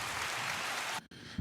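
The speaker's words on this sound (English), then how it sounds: "Can I get a round of applause?" A podcast audience gives a round of applause, a dense wash of clapping that holds steady for about a second and then cuts off abruptly into a quieter room.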